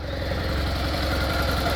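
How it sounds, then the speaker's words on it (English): A jump-started motorcycle engine runs in a steady, loud, close idle with an even low throb and no break or voices. "heading outside to try and start my bike"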